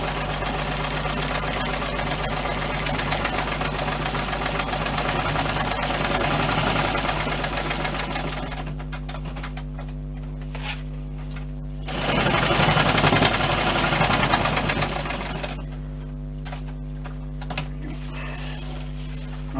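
A sewing machine stitches a simple bushcraft water bottle utility pouch in long continuous runs, a loud close mechanical whirr that pauses briefly and restarts, with no talk.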